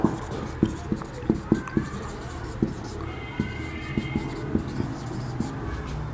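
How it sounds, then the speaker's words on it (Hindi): A pen taps and scratches on paper as a point is written down, giving a string of short, sharp strokes that cluster early and then come more sparsely, with someone speaking quietly through it. "आपका थर्ड पॉइंट हम लिख लेते हैं"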